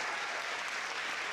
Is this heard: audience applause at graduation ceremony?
yes